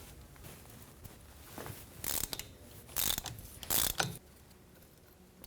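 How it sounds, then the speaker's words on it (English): A ratchet wrench loosening driveshaft bolts on a 1998–2011 Ford Ranger, several short bursts of rapid clicking separated by pauses, close and fairly quiet in a still workshop. "I'm just going to remove each bolt completely."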